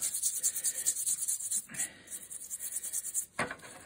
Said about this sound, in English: I shall give it a rub with the steel wool